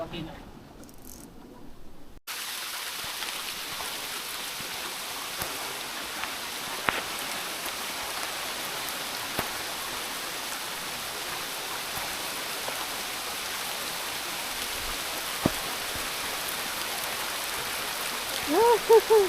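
Steady rain hisses down on a fishing trip for speckled snapper at Kanapawan, an even wash of drops broken by a few sharper knocks and a short, quieter opening.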